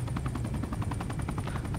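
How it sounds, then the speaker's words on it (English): A helicopter in the video game Super People gives a loud, close, steady rotor chop with fast, even pulses that go on without a break and with no voices over it. "I hear a helicopter but I'm now in it"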